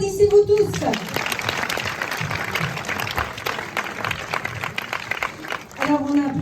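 An audience at a Christian film festival preview screening of Sacré Cœur in Bayonne claps for several seconds in a dense, sustained burst, with a voice speaking just before and after.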